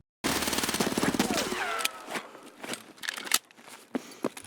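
Rapid automatic gunfire exchange in Escape From Tarkov, a dense loud burst of shots over the first two seconds, then scattered single cracks and impacts trailing off with footstep-like clatter.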